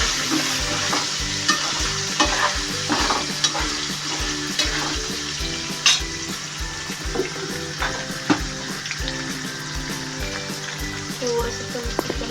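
Cubes of paneer fry in a pan with a dense, steady sizzle, while frequent spatula stirs and scrapes knock against the metal throughout.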